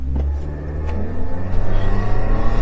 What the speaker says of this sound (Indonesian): Jadi kita coba nanjak begini dari diam, sekarang kita gas.